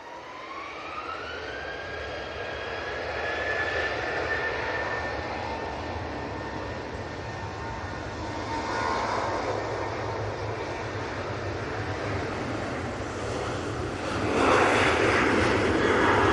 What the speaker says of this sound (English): It's another Cessna citation coming in from Liz's favourite airport, Luton.